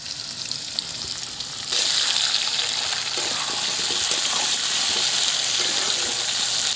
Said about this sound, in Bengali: আলুটা ভাজা ভাজা হয়ে গেছে এবারে দিয়ে দিচ্ছি আমি ধনে জিরে বাটা